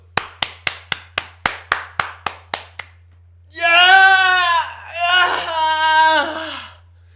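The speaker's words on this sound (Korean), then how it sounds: "일단 박수!" About ten sharp, evenly spaced claps ring out one after another, then stop; a long wavering vocal wail follows, like a voice crying out.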